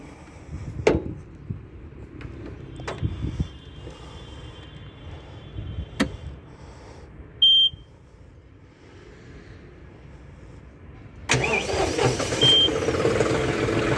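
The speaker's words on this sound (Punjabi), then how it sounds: "ਜਿਵੇਂ ਮੈਂ ਤੁਹਾਨੂੰ ਸਟਾਰਟ ਵੀ ਕਰਕੇ ਦਿਖਾ ਦਿੰਦਾ ਟਰੈਕਟਰ" A CRDI tractor engine cranks and catches after a pause, preceded by sharp clicks and a brief electronic beep, then a loud rumbling start near the end, close by.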